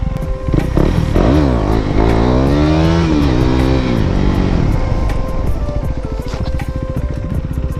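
A KTM Duke 200 motorcycle converted to a 390 engine revs hard and close by, its pitch sweeping up and down through a couple of throttle blips before settling into a rough, steady idle.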